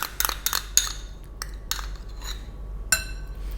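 Utensils clink and scrape against a bowl while a tahini cucumber salad with fresh herbs is stirred, giving a handful of sharp, close ticks spaced irregularly over a quiet background.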